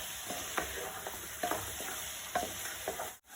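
Chilli powder and turmeric frying in a pan for Kerala-style chicken rice, stirred with repeated scraping strokes over a low, steady sizzle, close and quiet with no voices.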